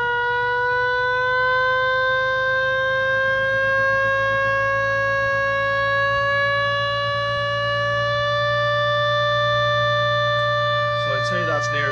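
An electric siren is driven through a homemade variable-frequency speed controller. Its loud, steady wail holds strong harmonics and climbs slowly in pitch as the motor spins up faster, with a steady low hum underneath and no talking.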